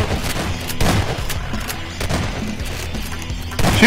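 Gunfire in Garry's Mod, a loud sequence of heavy shots and bursts with booming impacts, spaced irregularly across a few seconds and building near the end.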